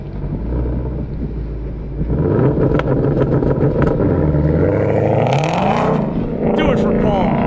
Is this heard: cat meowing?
no